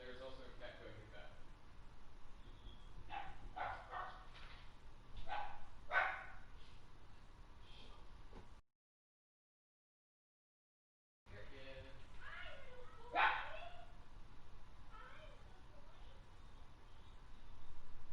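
A small dog barks several times in short bursts while a person talks over it, then a pause of silence, then more yips and barks mixed with speech, heard during a Dreams game-editing session.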